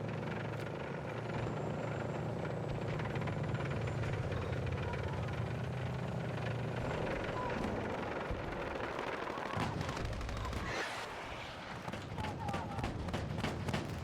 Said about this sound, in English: And there goes one of those drones again.